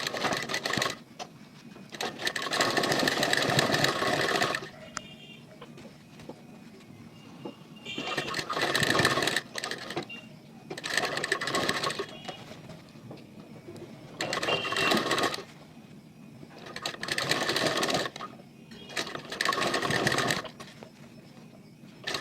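A sewing machine stitches multi-colour cord piping onto a neckline, running in about five loud bursts of rapid mechanical whirring separated by short pauses.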